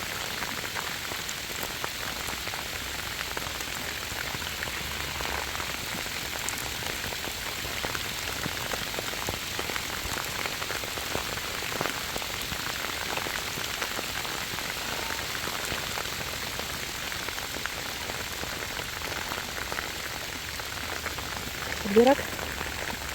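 Steady rain falls in a dense, even hiss of drops on surfaces, continuing unbroken throughout, with a faint brief sound near the end.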